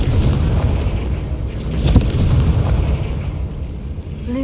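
A Confringo fire spell explodes in the Hogwarts Legacy video game as a loud, rumbling blast with a sharp pop near the middle. A brief chime follows at the end.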